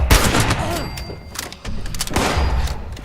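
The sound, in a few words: gunshot in video game Fallout 76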